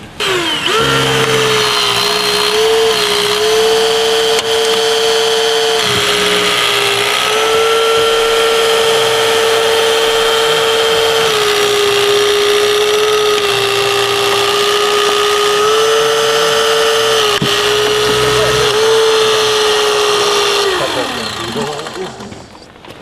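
Power tool cutting through a car body above a door hinge, a loud steady high whine with harmonic tones that holds for about twenty seconds, dipping in pitch briefly as it bites, then winding down at the end. Faint talk sits underneath.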